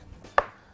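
A single sharp knife stroke thuds on a cutting board while finely chopping tomato flesh, one brief close tap in otherwise quiet surroundings.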